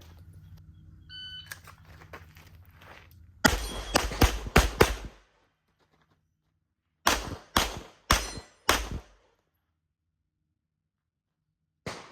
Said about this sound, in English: start on the steel and then shoot the 2 open targets